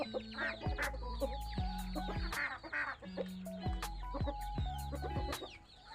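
Several chickens, laying hens and fighting cocks, cluck and squawk close by in a coop, with a busy farmyard chorus of overlapping calls and a faint rooster crow.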